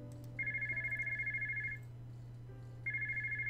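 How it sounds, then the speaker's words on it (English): Electronic telephone ringtone in a visual novel video game, two bursts of steady trilling rings separated by a pause, heard alone over a low constant hum. "Phone's ringing"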